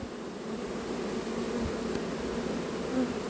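A swarm of honey bees being collected outdoors makes a steady, dense buzzing drone that stays fairly quiet and even throughout, with no voices.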